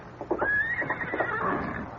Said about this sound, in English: Someone left a horse out there.